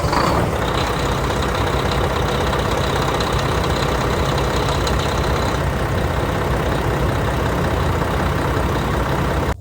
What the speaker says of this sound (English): let's fire the truck up after sitting for 5 days in cold Minnesota weather